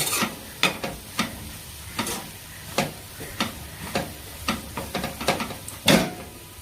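Peanut powder stirred into a cowpea bean stir-fry, a utensil scraping the pan in about a dozen short, evenly spaced strokes over a soft sizzle, close by and moderately loud, with no talking.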